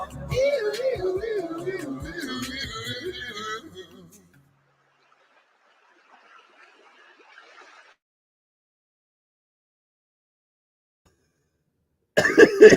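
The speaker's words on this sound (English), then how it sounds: "I did a big bong bit in, so I'm coughing." A person coughs a few times, hoarse and close, between bits of talk, followed by a long quiet stretch and a sudden loud burst at the end.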